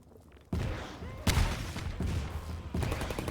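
Grenade blasts against an enemy turret in the video game Half-Life 2, a sharp explosive impact followed by further loud bursts of gunfire-like bangs in a rough rhythm, each with a heavy low thump.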